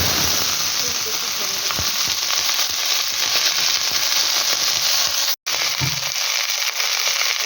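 Panch phoron spices sputter and sizzle steadily in hot oil for a mixed vegetable dish, a loud, dense frying hiss with a brief break near the end.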